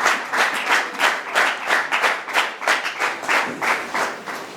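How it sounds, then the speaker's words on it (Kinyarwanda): Hearty applause for a child at a 25th-anniversary jubilee of a church choir, rhythmic clapping that swells and eases in waves from a nearby crowd. "Amashyi menshi ku mwana wacu."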